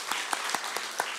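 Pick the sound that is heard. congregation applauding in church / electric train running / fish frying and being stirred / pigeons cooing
congregation applauding in church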